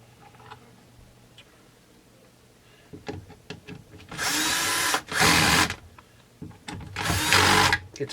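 A power drill or impact driver works on the base plate bolts of a 372XP chainsaw, with soft ticking handling first, then three loud, close buzzing bursts of about a second each.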